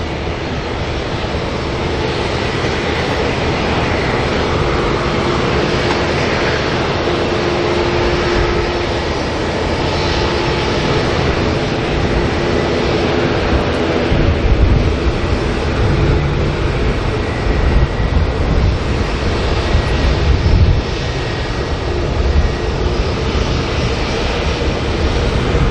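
A Delta airliner taxiing out at Auckland Airport, its engines giving a steady, broad jet roar that holds fairly loud and constant throughout, with no voices over it.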